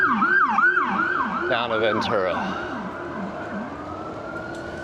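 An ambulance siren wails past on Highway 33 toward Ventura, loud at first with rising and falling sweeps, then fading into the distance as a voice speaks over it.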